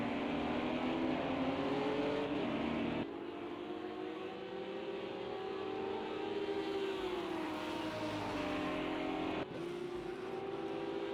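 Race cars, a Honda NSX and an Audi, battle at a Texas circuit with a loud, sustained engine whine whose pitch climbs and dips through gear changes and braking, with no voices over it.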